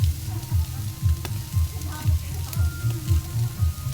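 Milkfish (bangus) frying in oil for a Christmas party, a steady close sizzle with rhythmic bubbling pulses and no talk.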